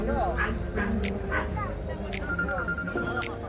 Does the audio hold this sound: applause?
no